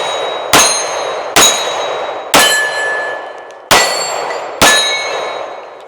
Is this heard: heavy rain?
no